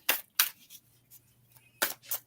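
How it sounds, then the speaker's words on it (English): Tarot cards are shuffled by hand in a few quick, crisp riffling bursts separated by short pauses, soft and close in a quiet room. "Let me shuffle for you, Mariana."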